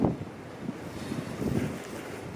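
Strong wind buffets the microphone on open Dartmoor moorland, a steady roaring rush with low gusty rumbles that swell and ease throughout, loud and close with no voices.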